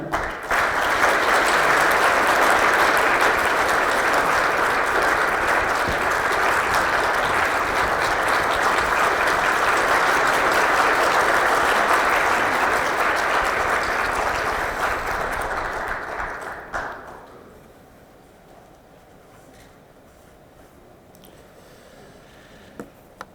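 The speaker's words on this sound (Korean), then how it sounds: "여러분 환영과 격려의 박수 부탁드립니다" An audience at a morning forum in Incheon applauds to welcome a presidential candidate, a dense sustained round of clapping for about sixteen seconds that fades into near quiet with a few faint scattered claps.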